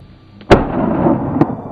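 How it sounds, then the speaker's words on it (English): A single sharp gunshot cracks out loud and close, followed by a rumbling echo and a second fainter shot about a second later, fired at wild boars during a hunt. "Gunfire tore through the air, each bullet hurtling straight into its target."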